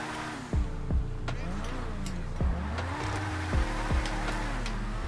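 Progen Emerus supercar engine in GTA 5, driving with a steady loud drone, several sharp gear-shift drops and revving pitch sweeps, with some talking over it.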